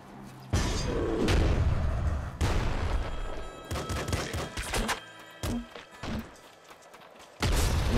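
A grenade launcher in Nuclear Throne fires repeatedly, producing heavy booming blasts and thumping explosions in separate bursts, loud and close with short gaps of quiet between them.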